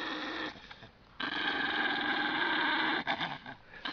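A small dog guarding a bone growls and snarls close by, a low rumbling growl that holds steady, briefly drops off, then resumes in strong sustained bursts.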